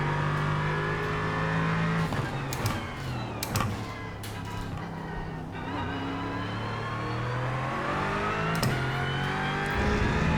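An Aston Martin race car engine in the racing simulator iRacing drones steadily at high revs, with harmonic pitch sweeps as it shifts and accelerates and a few sharp transient clicks, loud and continuous without talk.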